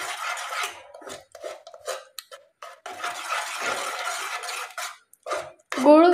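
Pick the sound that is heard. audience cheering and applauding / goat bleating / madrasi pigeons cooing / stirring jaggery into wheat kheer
stirring jaggery into wheat kheer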